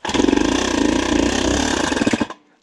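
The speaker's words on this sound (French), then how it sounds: "Vu le bruitage du moteur, vu les petits cliquetis et les bruits métalliques" A rough, clattering KTM 250 EXC enduro motorcycle engine, damaged, runs loud and steady with rapid metallic ticking, then cuts off abruptly, leaving near silence.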